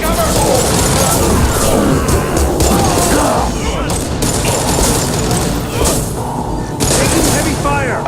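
Heavy gunfire in the video game Mass Effect 2, with dense bursts of shots, booms and crashing impacts going on continuously, mixed with voices in the game.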